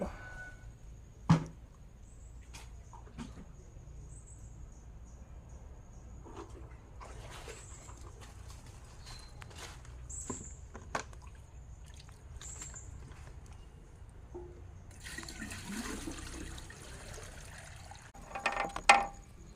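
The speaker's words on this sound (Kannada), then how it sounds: "ಬಾವಿಯಿಂದ ನೀರು ತೆಗೆಯುವುದು" Faint creaking and clanking of a pulley and rope drawing water from a well recur sparsely over a quiet background, ending with a splash and metallic rattle of a bucket near the close.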